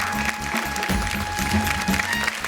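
Applause from a studio audience at a Marathi women's game show, dense and steady clapping throughout with a faint voice underneath.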